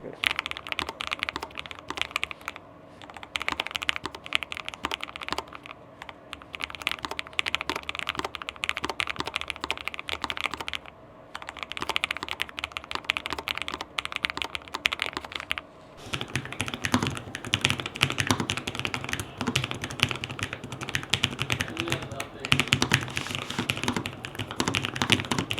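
Continuous close typing on a Lofree Flow low-profile mechanical keyboard, with dense rapid keystrokes and brief pauses, growing slightly louder and busier in the second half; no talking.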